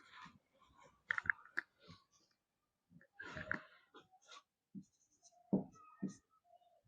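A pen scratches across paper in short, separated bursts of writing strokes with brief pauses between them, close up and quiet.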